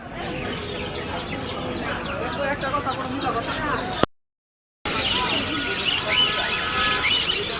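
Chickens and roosters cluck and squawk continuously at a crowded Tongi bird market, a dense chorus of fowl with voices talking nearby; the sound cuts out briefly midway before resuming just as busy.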